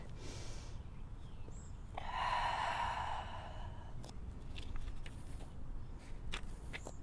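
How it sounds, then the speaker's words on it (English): Slow, deep audible breaths during an outdoor yoga pose, a long sighing exhale, faint and close over soft background noise. "we'll take 2 more breaths here"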